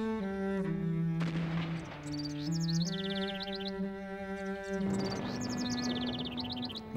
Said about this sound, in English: And all the time, the birds sing over our heads.